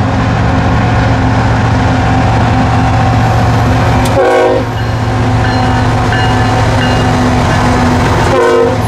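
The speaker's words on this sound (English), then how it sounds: "Hey, Liam, you can wave at the train, it might honk." A loud train rumbles past close by with steady clattering, and a horn blares in two short bursts over the roar.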